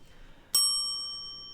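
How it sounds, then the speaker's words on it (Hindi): A bell rung once in a waiting-room setup, giving a single sharp metallic ding that rings on with a long, slowly fading tone, alone and clear. "इन्होंने एक घंटी भी ऐड कर दी इस सेट में, और ये घंटी को रैंडमली बजाते थे"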